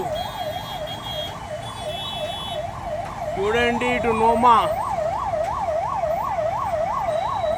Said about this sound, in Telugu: అంబులెన్స్ కూడా అంబులెన్స్ ఆగిపోయింది అంబులెన్స్కి కూడా దారి లేదు